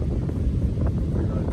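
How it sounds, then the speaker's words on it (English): Gusty outdoor wind buffeting a microphone on a blustery Scottish day, a steady low rumble filling the whole moment with no break. "It's a bit windy."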